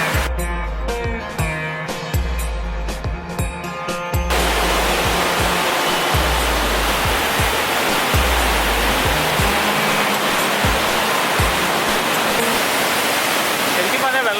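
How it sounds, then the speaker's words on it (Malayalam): Punnayar waterfall in Idukki pours with a steady, loud rushing roar. A voice and thumping handling noise are heard briefly at the start before the water takes over alone. "എല്ലായിടത്തും ചെറിയ ചെറിയ വെള്ളച്ചാട്ടങ്ങളാണ്"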